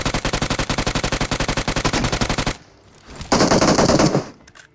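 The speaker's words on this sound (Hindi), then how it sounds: "ये डायनासोर की हड्डी में गोलियां लग गई, जिससे वो बंदा बच के निकल गया।" Rapid automatic gunfire from a shooting video game rattles in a fast, even burst for over two seconds, stops briefly, then a loud sustained blast of noise follows before fading out.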